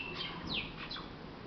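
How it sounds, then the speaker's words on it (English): A few faint, high bird chirps and tweets outside a window against a steady background hiss, with a brief descending whistle standing out near the middle. "It's rather balmy outside and the birds are chirping."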